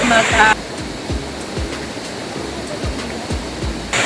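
A waterfall at a multi-tier falls in Caramoran, Catanduanes, reached by a jungle trek, roars as a dense, loud broadband rush of falling water that carries on without a break throughout.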